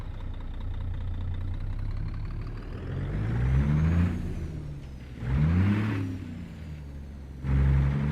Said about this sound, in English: listen to that big motor start